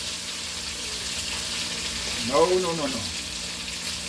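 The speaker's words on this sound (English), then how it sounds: "Like I say, you don't fry them too long." Beef liver and onions frying in a pan, a steady close sizzle running throughout with a brief stir or clatter midway, no talking over it.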